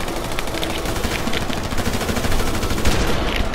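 Gunfire in the GTA video game forms a dense, loud, continuous barrage of rapid shots that barely pauses across the whole stretch.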